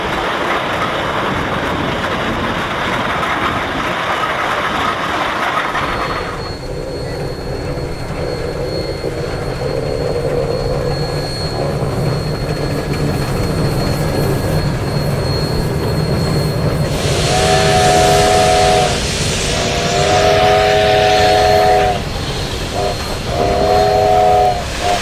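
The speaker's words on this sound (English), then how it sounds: "The engine will make its way onto the tail track after rolling through South Park Junction." Steam locomotive 751 rolls through South Park Junction onto a museum tail track, a loud, steady rumble and clatter of wheels and cars, with several harmonic whistle blasts sounding near the end.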